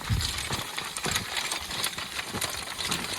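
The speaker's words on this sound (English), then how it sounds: "Those keys kind of vibrate." Keys jingle and clink steadily on a working draft horse team's bits during plowing on a horse-powered farm, a continuous bright rattling carried over harness and hoof noise, close and fairly loud.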